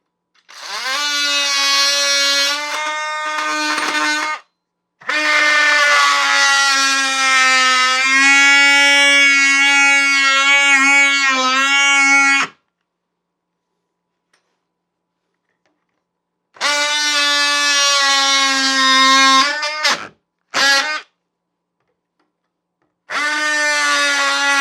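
A power tool cuts the sink opening in a kitchen countertop, its loud, high whine running in long bursts separated by quiet pauses, then shorter runs near the end.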